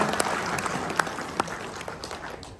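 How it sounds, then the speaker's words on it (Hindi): Applause from an audience at a business gathering, with scattered sharp claps over a broad wash of crowd noise that gradually thins out. "और हम इंडियन वालों के लिए भी जोरदार ताली।"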